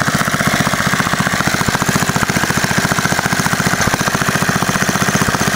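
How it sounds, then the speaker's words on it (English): A small Lauson engine runs steadily, its rapid, even firing beat loud and close with a continuous mechanical clatter and no other sounds. "So the little Lauson does run."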